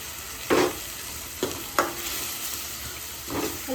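Chole masala gravy with tomatoes and spices sautéing in oil, a soft continuous sizzle broken by a few brief scraping strokes of a spoon against the pan.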